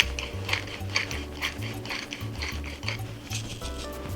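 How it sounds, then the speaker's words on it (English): Pepper mill grinding pepper over a kale and quinoa salad dressing of vinegar and kosher salt, a series of close, rhythmic ratcheting crunches in quick repeated bursts, with no talk. "I'm going to put in a grind or two of pepper."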